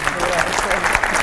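Studio audience applause on a Serbian TV game show as a telenovela star is introduced, a dense steady wash of clapping lasting the whole moment, loud and continuous with a host's voice faintly mixed in.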